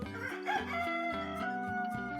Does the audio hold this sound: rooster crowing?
yes